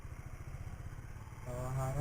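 A Kawasaki Ninja Mono 250 motorcycle with an Akrapovic exhaust idles with a steady, close, throbbing note, then revs up and holds a louder, rising tone near the end.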